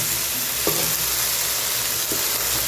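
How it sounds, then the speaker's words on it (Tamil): Mixed vegetables with greens frying in a pan for a Tamil-style poriyal, a steady broadband sizzle filling the whole stretch, with two brief scraping stirs of a spoon against the pan and no voices. "நான் இதை கொஞ்சம் ஆடி கொஞ்சம் கிண்டி விடுறேன்"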